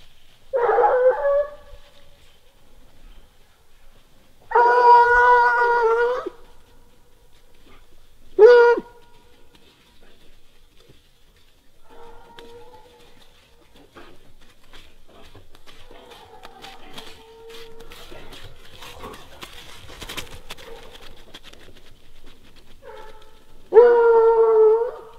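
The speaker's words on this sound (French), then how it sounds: "Les chiens sont revenus en arrière," Grand Bleu hunting hounds bay while chasing a hare: several long, mournful howling cries come in separate bursts with quieter gaps, some near and some more distant, over faint rustling.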